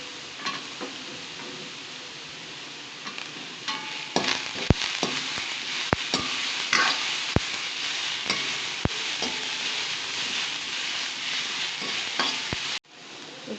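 Beetroot and garlic sizzling steadily in a pan, with frequent sharp clicks and scrapes of a spoon stirring against the metal, close and loud, ending abruptly.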